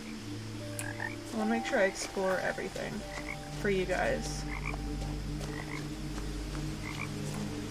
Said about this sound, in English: Those frogs are wild today.